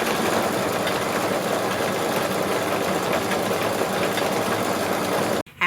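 An embroidery machine sewing a decorative cover stitch hums and whirs in a fast, even mechanical chatter. It runs steadily at close range and cuts off briefly just before the end.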